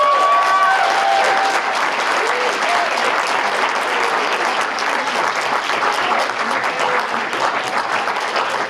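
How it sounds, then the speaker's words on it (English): A crowd applauding the presenters at a Poetry Out Loud recitation event, sustained, fairly loud clapping that begins as a voice trails off and carries on evenly for several seconds. "let's give them all a good round of applause"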